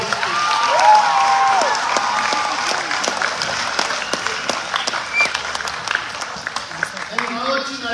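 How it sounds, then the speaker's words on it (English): At a boys' high school Year 12 graduation, the audience applauds the graduates with sustained clapping and some cheering, strongest at first then thinning out, while voices and a few whistles rise over it. "Give the Year 12 a round of applause, please."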